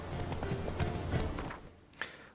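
Roach, a horse in The Witcher 3, trotting with steady hoof clip-clops over a low ambient bed, then a few sharper isolated hoof knocks near the end.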